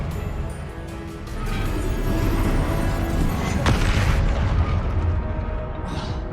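Confringo blasting spell in Hogwarts Legacy, a heavy rumbling explosion that swells and sustains with a sharp crack in the middle and crackling debris, loud and close, before tailing off.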